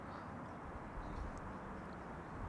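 Jet airliner engines at Amsterdam Schiphol Airport, a distant, steady low roar and rumble that fills the background evenly throughout.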